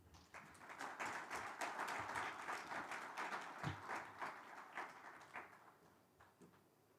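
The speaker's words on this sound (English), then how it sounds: "Please give Mr. Robin Sherborne a round of applause." An audience at a Namibia-EU business forum applauds a speaker being introduced, a fairly faint but steady burst of many hands clapping that swells and then tapers off toward the end.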